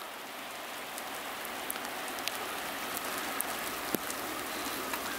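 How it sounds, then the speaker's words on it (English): Heavy rain pours steadily, a dense hiss with scattered sharper drops striking nearby surfaces; no voices. "It's raining harder now."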